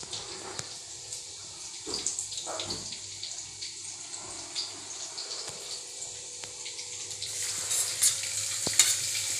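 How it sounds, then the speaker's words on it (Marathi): Garlic, chillies and onion fry in a kadhai with a soft, continuous sizzle, broken by occasional stirring scrapes and clinks, close but fairly quiet. "त्याच्यासोबत आता मिरची सुद्धा तळायला टाकलेली आहे."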